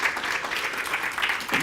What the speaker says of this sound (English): So can we give them a warm round of applause